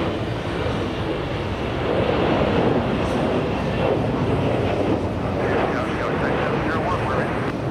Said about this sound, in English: we have one racing down the runway. It's the Orlando flight.